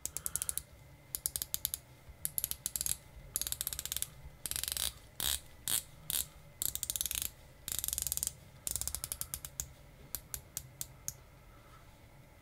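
A unidirectional 120-click dive watch bezel on a Spinnaker Amalfi Diver being turned, giving quick bursts of crisp ratcheting clicks in irregular runs, close and clear with no talking.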